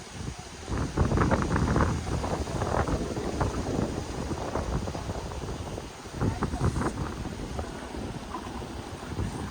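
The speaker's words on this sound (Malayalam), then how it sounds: "ഫുൾ ടൈം കാറ്റാണ്. കാറ്റ് എന്ന് പറഞ്ഞാൽ ചെറിയ കാറ്റൊന്നുമല്ല കേട്ടോ." Strong wind in Wayanad, Kerala buffets the microphone in gusty, roaring bursts, with someone speaking underneath.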